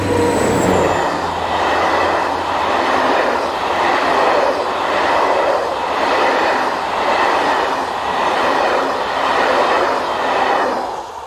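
A class 67 diesel locomotive hauls a Boulogne to Paris passenger train past, its engine a loud, steady drone with a rhythmic rumble of wheels and carriages, close by and alone throughout.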